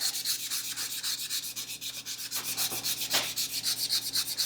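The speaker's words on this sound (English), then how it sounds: "So now I'm gonna hand sand these up to 1500 grit" Hand sanding of knife blade flats at 1500 grit, a steady rhythmic back-and-forth rasp of fine abrasive on steel, close and continuous with even strokes and no voices.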